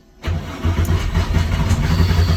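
427 Cobra replica with an air-cooled setup and no choke, starting on a dyno: a brief crank catches almost immediately into a loud, rumbling cold idle that holds steady and close.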